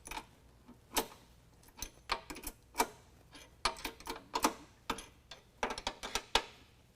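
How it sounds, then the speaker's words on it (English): A 13mm open-end wrench tightens bolts on a truck's rocker panel while fitting power running boards to a 2020 Ram 2500, making close, irregular metallic clicks and ratcheting taps in quick bursts. "we're going to use a 13mm open end wrench and tighten down these 2 bolts to the rocker panel"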